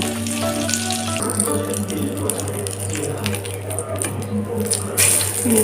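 Fried pointed gourds being lifted one by one out of hot oil, a continuous sizzle with light scraping and clatter, plus a low steady hum running underneath.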